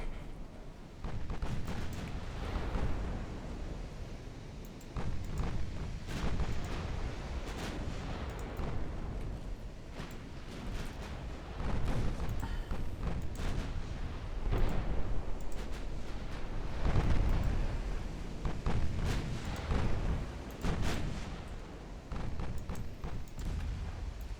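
Battleship gunfire in the naval game Ultimate Admiral Dreadnoughts: repeated deep booming salvos and rumbling detonations, irregular and heavy, filling the clip with no voices.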